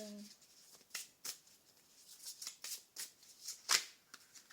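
A deck of tarot cards is shuffled in a series of quick, crisp riffling bursts, close and fairly soft, with one louder snap near the end.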